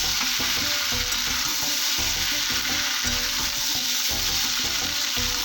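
Bitter gourd frying in hot oil for shukto, a Bengali vegetable dish, giving a steady close sizzle with rhythmic stirring scrapes throughout and no voices.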